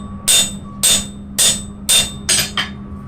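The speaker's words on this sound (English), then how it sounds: "let me just hammer here" A hammer strikes metal on an anvil five times at a steady, slightly quickening rhythm, each blow a loud, ringing clang close by over a low background hum.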